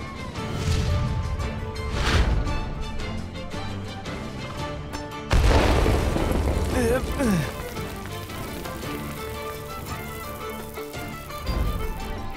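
A loud, sudden explosion blasts midway through a scene in a Hindi-dubbed Hollywood action movie, rumbling out over a dense score and other effects, with voices talking at times.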